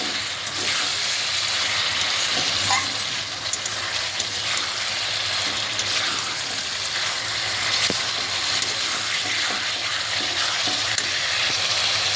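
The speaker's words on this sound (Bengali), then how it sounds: "চলো, তো দেখতেই পাচ্ছ মশলা কিন্তু কষাচ্ছি, কাঁটার ঝালের মশলা।" Fish-bone curry spice paste is stirred and sautéed in a pan, making a continuous close sizzle with scattered scrapes and clicks of the spatula and no talking.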